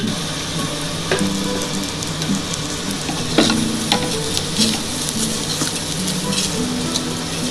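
Khichuri of gobindobhog rice and mung dal with ghee is stirred in a pot, a constant close sizzle broken by scattered scraping and knocking of the spoon, with no voices.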